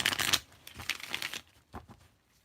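Tarot cards shuffled by hand in a quick riffling burst, followed by a few softer slides and taps as the deck settles. The sound is close and alone, with no talking.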